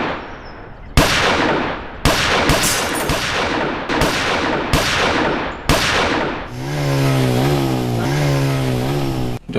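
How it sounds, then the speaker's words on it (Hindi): Continuous gunfire in a TV crime drama scene: a string of sharp, loud shots at irregular intervals, then a sustained rapid metallic rattling burst toward the end, with no talk. "नहीं सर, लगातार गोलियां चल रही थी सर।"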